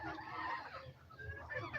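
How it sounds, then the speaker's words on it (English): Laying hens on a small local chicken farm cluck and murmur continuously at close range, a busy overlapping flock chatter with no talking. "So guys, these are the layers that I currently have."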